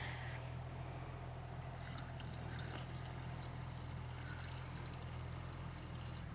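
Five litres of water pour into a large jar for a home apple cider vinegar ferment, a continuous splashing stream that stays steady and moderately faint from start to finish, with no talk.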